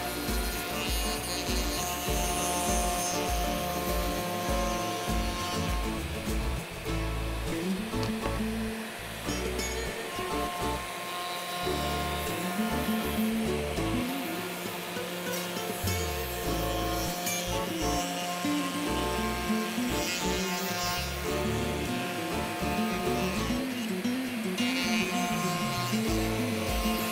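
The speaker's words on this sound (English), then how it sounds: "I've changed my drill press into a sander" Continuous whirring of a drill press converted into a sander, with abrasive grinding and rubbing of sandpaper against wood, steady and fairly loud throughout.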